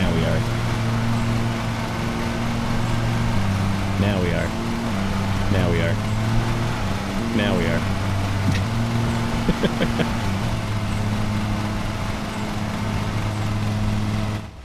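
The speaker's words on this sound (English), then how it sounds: "Not overloading the engine yet." Mower engine running while cutting overgrown grass in a yard, a steady close droning hum whose pitch dips and recovers several times as it bogs under load, with talking heard over it.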